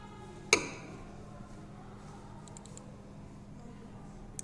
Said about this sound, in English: Click on this icon.